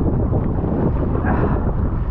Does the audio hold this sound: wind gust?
yes